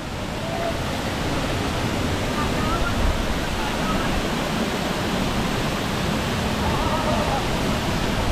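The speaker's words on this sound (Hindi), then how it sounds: "क्या ऊपर से झरना गिर रहा है" The Gangulpara waterfall near Balaghat cascades from above, producing a steady, dense roar of falling water that fills the whole stretch without letup.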